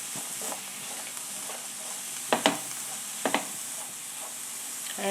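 Mushrooms roast with a spoon of garam masala in a pan for a Goan mushroom chilli fry, a steady soft hiss broken by a couple of brief scraping stirs, close and without speech.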